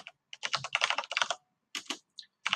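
Computer keyboard keys clatter in quick bursts of close, crisp clicks as a project name is typed, with brief pauses between the runs of keystrokes.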